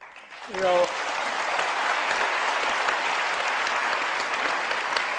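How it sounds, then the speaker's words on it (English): An audience at a live debate on religion and politics breaks into applause right after a brief voice, then keeps clapping in a thick, sustained roar that stays even and loud to the end. "for the people applauding"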